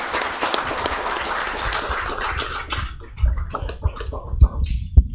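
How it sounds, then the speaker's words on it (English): Audience applause at a churches candidates forum, a dense spread of clapping that thins out toward the end into a few scattered, louder claps. "let's give these guys a big round of applause"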